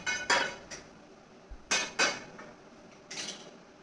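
Metal clanks and scrapes as a kadhai is set down on a gas stove, a few sharp knocks spaced through an otherwise quiet moment, no voices.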